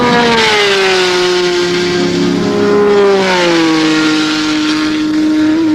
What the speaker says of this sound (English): Here the cars reach maximum speed, the fastest ones close to 200 miles an hour.